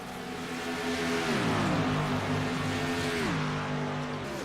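Several race cars roar together down the backstretch at Las Vegas Motor Speedway while battling for position, their engine notes holding steady and then dropping in pitch twice as they pass by, loud and continuous throughout.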